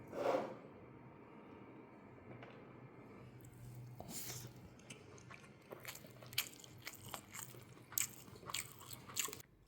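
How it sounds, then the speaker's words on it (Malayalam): Close-up chewing and crunching of mutton biryani rice, with soft bites and mouth noises repeating through the stretch, quiet and near with no talk. "ഇനി ആദ്യം ആ റൈസ് മാത്രമായിട്ടൊന്ന് കഴിച്ചു വെക്കാം എങ്ങനെയുണ്ടെന്ന്"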